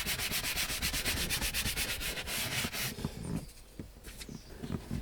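A brush scrubs cleaning solution into the driver's seat upholstery of an Audi A6 C5, a fast rhythmic rasping that runs steadily, then gives way to slower, sparser strokes.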